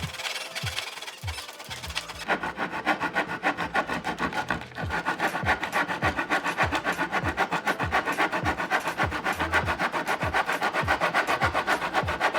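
A handsaw cuts through pallet wood for a DIY garden door, the steady back-and-forth strokes rasping in a quick regular rhythm, close and loud, after a few slower opening strokes.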